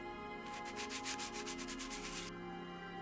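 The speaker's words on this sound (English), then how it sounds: "careful sanding of all edges and surfaces carried out in 3 stages" Rhythmic hand sanding on a wooden turntable plinth, a quick series of soft scratchy strokes over a steady background hum, fairly faint and close.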